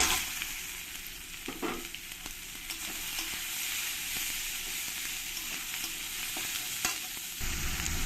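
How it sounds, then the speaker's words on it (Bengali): Spices and chopped onions fry in oil, sizzling steadily in a pan, with occasional scraping and stirring sounds; close, continuous frying and no voices. "দিয়ে ভালো করে আমি একটু ভেজে নেব"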